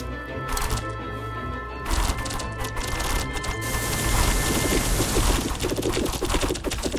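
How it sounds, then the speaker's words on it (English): Crackling lightning attack in the video game Defender's Quest: Valley of the Forgotten, a dense burst of sharp snapping and rustling crackles that swells and rolls on for several seconds, loud and close. "Nothing my lightning can't handle."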